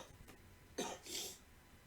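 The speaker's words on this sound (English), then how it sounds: "It's mixed with the smoke, and it's going into him and causing him to cough." A man coughs while cooking with hot sauce that has turned to vapor in the smoke, a faint short cough followed by a louder, harsher throat-clearing cough, heard alone and up close.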